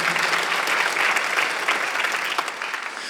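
Congregation applauding at a Korean church Sunday worship service, a dense, steady wash of clapping from many hands that carries on throughout before thinning slightly toward the end.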